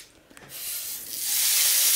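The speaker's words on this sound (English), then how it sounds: "Sizzle." Teriyaki udon noodles hit a Severin KG 2397 teppanyaki flat grill with a rising hiss that swells into a steady, close sizzle after a brief quiet start.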